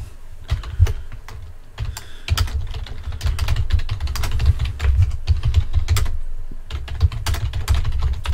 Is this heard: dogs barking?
no